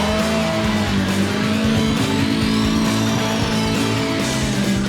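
A car drifting sideways under throttle, its engine droning loud and steady while the tires squeal in a continuous high whine throughout.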